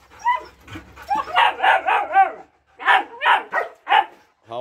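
A male Belgian Malinois barks in a quick run of loud, close yips and barks, two bursts separated by a short pause.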